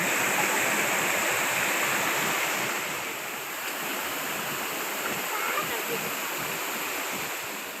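A natural waterfall stream at Kaeng Wang Saeng rushes in a steady, loud wash of white water that runs without a break.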